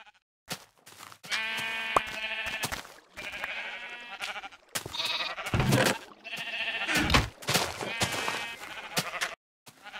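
Minecraft sheep bleating repeatedly, several loud, close, wavering baa calls in quick succession with brief gaps between them.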